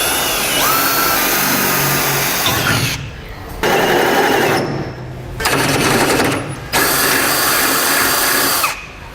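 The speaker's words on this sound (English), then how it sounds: "drill my pilot hole" A power drill whirs loudly in three or four bursts separated by short pauses, boring a pilot hole in steel close by while fitting a heavy-duty trailer hitch receiver to a 1988 Ford F-150.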